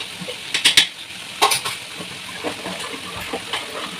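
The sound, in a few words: masala frying and being stirred in a pan for biryani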